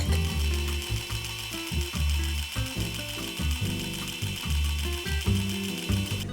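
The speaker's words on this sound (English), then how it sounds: "We'll have the printer push out as many pages as it can in 1 minute." An HP LaserJet Pro MFP 4101fdw laser printer runs a fast continuous print job, giving a steady mechanical whir with a rapid repeating thump-and-click rhythm as pages feed through, close and fairly loud.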